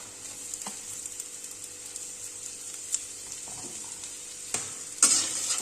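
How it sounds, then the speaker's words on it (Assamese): Finely chopped onions and carrots fry in a pan as they are stirred, giving a low, steady sizzle broken by a few soft scraping stirs and clinks, with one sharper knock near the end. "এতিয়া আমি তাত সৰু সৰুকৈ কাটি ৰখা গাজৰখিনি দি দিম।"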